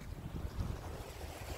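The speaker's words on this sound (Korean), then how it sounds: "바람 소리도 불고 파도 소리 들리고요" Steady wind buffeting the microphone and low rumbling waves at a rocky seashore, continuous and fairly loud, with no voices.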